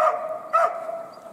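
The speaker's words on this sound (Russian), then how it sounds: "Пускай лает. Сколько ему влезет." A dog near a hut in the taiga gives two close barks with a whining tone, a short pause between them, and nothing else underneath.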